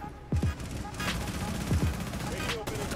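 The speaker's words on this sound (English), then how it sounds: "I was trying to shoot at him" Gunfire in the video game Rainbow Six Siege: a few sharp shots with low thumps, heard under a voice talking over game audio.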